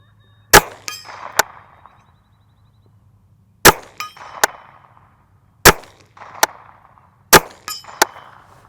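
Four sharp rifle shots from a Henry U.S. Survival Rifle fired at a target 70 yards away, each crack followed moments later by a fainter metallic ring of the bullet striking steel, with long pauses between shots.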